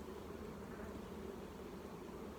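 Honey bees hum around a hive that is being restored and requeened. The low buzzing is faint, continuous and steady, with no voices.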